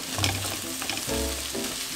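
Meat goes into a frying pan with onion and bacon and sizzles steadily up close, with a few soft stirring sounds and no voices.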